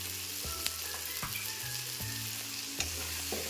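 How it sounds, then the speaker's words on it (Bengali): Chopped tomato sizzling in a hot frying pan of prawn curry with spices, a steady loud fry broken by several sharp clanks of a spoon against the pan, no voices. "আমি একটু টমেটো কুচি দিয়ে দিচ্ছি। টমেটো কুচি দিয়ে দিচ্ছি।"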